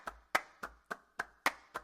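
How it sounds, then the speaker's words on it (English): Seven crisp hand claps in an even, steady rhythm, each with a short roomy tail from simulated space placement in a music mix, fairly quiet and alone. "It's actually putting the claps"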